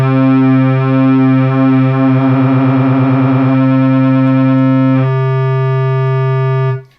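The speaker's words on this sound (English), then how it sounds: "square wave. But you can hear the pulse width modulation right now." A hollow, buzzy square-wave note from a Polymoog synthesizer holds steady, its tone audibly wavering and phasing as the pulse width is modulated, then stops.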